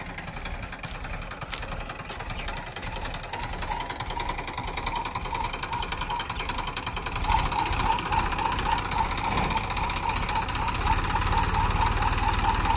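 A tractor loaded with manure and stuck, its engine chugging and knocking steadily, laboring harder as its rumble grows louder toward the end, with no talking.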